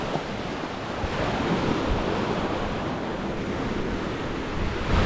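Choppy ocean surf off Dumaguete in the Philippines, a steady broad wash of waves with heavy wind buffeting the microphone throughout, loud and continuous with no talk.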